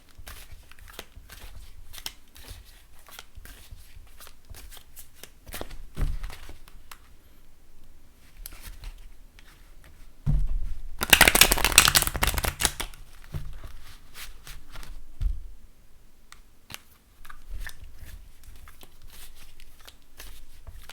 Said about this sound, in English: Okay, that's quite a long shuffle.